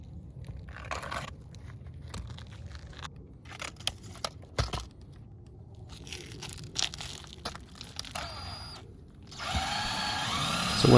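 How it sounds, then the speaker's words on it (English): A power drill whirs and grinds into a roof in uneven bursts, rising to a louder continuous whine near the end. "So when we start drilling,"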